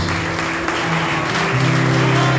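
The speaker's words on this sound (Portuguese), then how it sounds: "pode aplaudir forte o Senhor Jesus?" A church congregation claps loudly and continuously during a worship service, a dense wash of applause over a sustained low musical tone, close and steady throughout.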